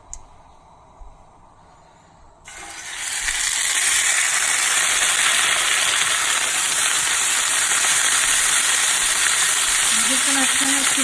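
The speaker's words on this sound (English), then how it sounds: "We're going to be frying our steak" A steak seared earlier hits a hot pan on a stove at high heat, setting off a sudden loud, steady sizzle that follows a quieter opening and crackles on unbroken to the end.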